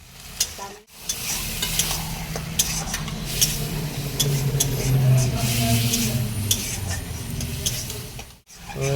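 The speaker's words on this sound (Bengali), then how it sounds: "মশলা থেকে তেল ছেড়ে গেছে, এরপরে মাংসটা দিয়ে ম্যারিনেশন করা মাংসটা দিয়ে দেবো।" Marinated goat meat hits hot oil and spices, sizzling loudly and continuously while a spatula scrapes and knocks against the pot, with low frying rumble throughout and no voices.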